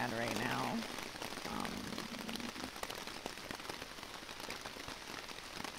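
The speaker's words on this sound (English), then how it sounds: "the rain and the wind is really bad right now" Heavy rain with gusting wind drums on a tarp shelter at a camp along the Long Trail, a steady dense roar throughout, with brief speech at the start.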